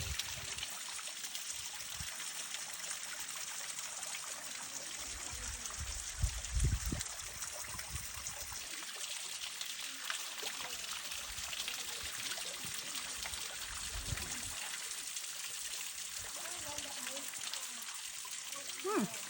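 Stream water flowing and trickling outdoors, a steady close hiss of running water throughout with occasional low thumps and a faint voice under it.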